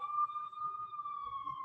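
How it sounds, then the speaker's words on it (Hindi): A police car siren on New Year's Eve sounds a steady, slowly falling wail, fairly close, with faint background noise from the street and a low thump near the end. "अभी पुलिस का सायरन बज रहा है"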